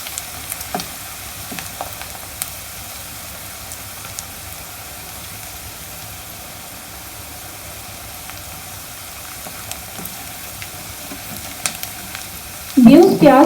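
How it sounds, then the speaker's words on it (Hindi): Onions browning in hot oil in a pan, a steady soft sizzle running throughout, with a louder burst of stirring or frying near the end. "प्याज हमारा ब्राउन हो रहा है।"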